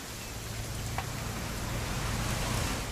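Rain in What Remains of Edith Finch, falling on a father and daughter's weekend hunting trip, an even, dense wash of rainfall with a low rumble underneath, constant and moderately loud, with no voices.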